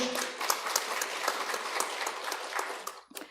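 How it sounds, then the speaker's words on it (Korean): A congregation at a Won Buddhist dharma service in Gangnam claps in a steady wash of applause with sharper individual claps, then quickly dies away. "박수!"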